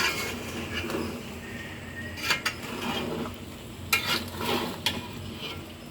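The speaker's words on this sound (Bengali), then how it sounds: "আচারটা ভালো করে ঘন ঘন করে নাড়তে হবে" Mango and mustard pickle, made with mustard paste, chili and garlic, being stirred in a pan, with soft scraping and clinks of a spoon against the metal over a low sizzle and a few sharper knocks.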